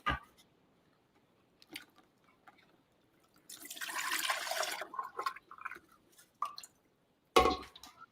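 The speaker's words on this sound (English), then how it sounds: "I'm just going to strain it right into my blender." Coconut water strained into a blender: a faint, soft splashing pour lasting over a second, surrounded by scattered drips, small taps and quiet handling noises in a still room.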